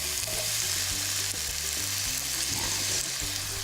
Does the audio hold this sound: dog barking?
no